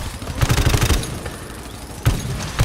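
Gunfire in the co-op shooter GTFO, two loud bursts of rapid shots, the first lasting about half a second, then a gap before a second burst with heavy thumps.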